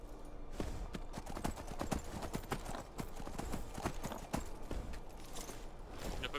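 Rapid clip-clop of horse hooves at a brisk pace in the video game Skyrim, steady and close, over a busy background of ambient noise.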